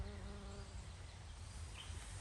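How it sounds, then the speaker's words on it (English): A steady, close buzzing of many bees on garden flowers, a continuous droning hum with no talking, holding at an even level throughout. "There's lots of bees on it."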